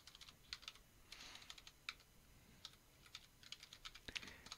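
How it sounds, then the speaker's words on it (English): Password being typed on a computer keyboard at a terminal: a quiet, irregular run of soft key clicks in short bursts with brief pauses, with no voices. "If I can type correctly."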